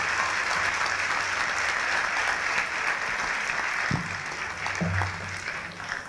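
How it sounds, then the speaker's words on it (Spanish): Sustained audience applause at a conference on Mexican cinema, a dense even wash of many hands clapping in a hall, with a few low thumps near the end and no speech. "Quiero que le den un aplauso fuerte a Cuau Arau."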